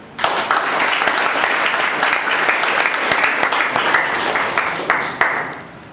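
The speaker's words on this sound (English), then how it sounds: "Let me give a great round of applause to all the speakers who have donned the stage today." An audience applauds the day's speakers at a speaking event, loud sustained clapping from a crowd that starts abruptly and continues evenly before trailing off near the end.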